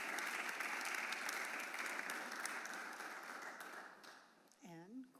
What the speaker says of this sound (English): that deserves a round of applause because that's a super big deal